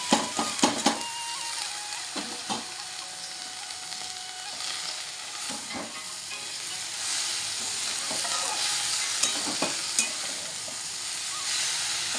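Fenugreek greens fry in a pan with turmeric, a steady broadband sizzle running throughout with repeated scraping stir strokes and a few sharper clacks of the utensil against the pan.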